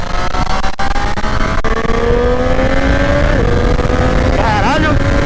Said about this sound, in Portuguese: Nossa, que moto forte, velho!